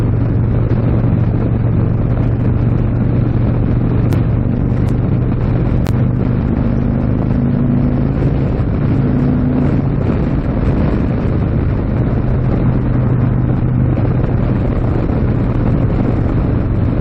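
An Indian Stage 3 Thunderstroke 116 motorcycle pulls steadily in sixth gear, a low continuous engine drone heavily buffeted by wind rushing over the microphone.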